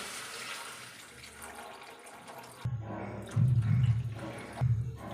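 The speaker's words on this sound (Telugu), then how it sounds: "ఒక కప్పు ఓట్స్కి నాలుగు కప్పుల వాటర్ పోసుకోవాలి" Water is poured into a pot of oats with turmeric and chili powder for oats khichdi, a soft wash of sound that turns into louder, heavier gushing partway through.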